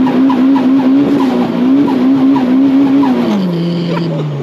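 A modified car's tires squeal loudly as they break traction on a wet road, a sustained screech over a revving engine, with the pitch wavering then dropping as the slide eases near the end.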